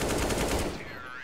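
An AK rifle in a video game fires a fast, loud burst of automatic shots that rattles close and dense for most of a second, then cuts off into a brief fading tail.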